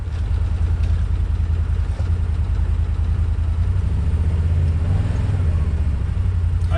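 A Can-Am Maverick side-by-side stuck on a trail, its engine running with a steady deep low rumble and light clatter, close and continuous, with faint voices under it.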